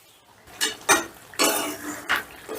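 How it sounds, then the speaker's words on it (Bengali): A lid lifted off a pot of slow-cooked chicken kala bhuna, heard as a series of close metallic clanks and scrapes of cookware, about five distinct knocks, with no talking. "10 মিনিট বাদে ঢাকাটা তুলে নিলাম"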